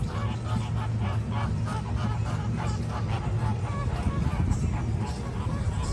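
A flock of flamingos at a Busch Gardens exhibit honks excitedly in a dense, continuous chorus of overlapping nasal calls, steady and fairly loud, with crowd noise blended underneath.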